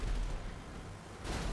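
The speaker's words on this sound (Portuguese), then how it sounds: "Acho que eu tomei um tiro de tanque." A tank cannon blast in GTA 5 during a ten-star wanted-level army chase, heard as a loud, sustained low boom with rumbling noise. A second burst swells near the end.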